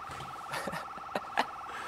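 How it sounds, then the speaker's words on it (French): An alarm rings with a steady warbling electronic tone, fairly faint, while voices and small knocks occur over it. "vous voulez pas couper l'alarme, s'il vous plaît, ça casse les oreilles"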